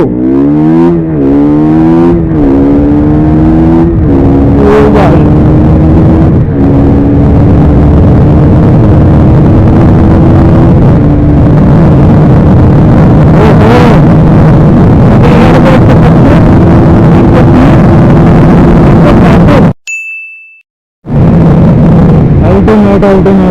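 A KTM RC 200 motorcycle accelerates hard through first gear, its loud engine note climbing steadily in pitch, then holding a high roar with heavy wind buffeting; the sound cuts out briefly near the end before resuming.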